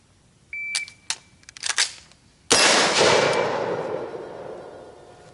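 A short-barreled 7.5-inch AR-15 goes through a tap-rack-bang drill: a beep, then rapid metallic clacks of the magazine tap and charging handle, followed by a single sharp, loud close gunshot that rings out and decays over several seconds; no talk.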